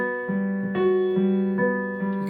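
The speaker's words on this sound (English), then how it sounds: "You can hear the guitar doing that." A guitar part in a worship song plays a steady run of ringing, pitched notes in an even rhythm, clear and close with no voices.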